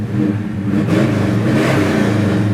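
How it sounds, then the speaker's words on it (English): A 1969 Chevelle SS 396 V8 engine revs up hard through a throaty exhaust, a loud, deep rumble that builds and holds, close by with no speech. "What a great exhaust."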